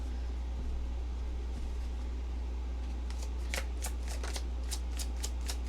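Tarot cards are shuffled in a few quick riffling bursts in the second half, close and crisp over a low steady hum.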